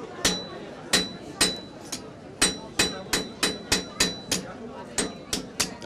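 An artistic blacksmith strikes hot metal on an anvil with a fairly heavy hammer, about a dozen sharp, ringing blows in a steady, even rhythm, close and clear.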